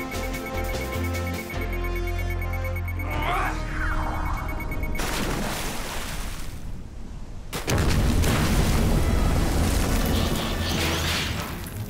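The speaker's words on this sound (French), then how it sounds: "Quoi que ce soit, il va être pris dans l'explosion." A cartoon explosion aboard a sea rescue in a Transformers Rescue Bots episode, heavy rumbling booms and blasts swelling over a droning music bed, with a sudden cut to a louder burst midway.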